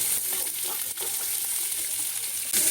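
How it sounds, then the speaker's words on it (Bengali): Potato pieces hit hot oil with fried panch phoron, setting off a loud, continuous frying sizzle with scraping stir sounds, close up and without speech. "পাঁচফোড়ন ভাজা হয়ে গেছে এখন আলুগুলো দিয়ে দিচ্ছি"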